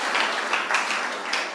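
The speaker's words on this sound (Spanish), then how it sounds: "Un aplauso al Señor, mis hermanos, un aplauso al Señor." A Spanish-speaking church congregation applauds the Lord during a service. The clapping is dense, steady and continuous, with no voices over it.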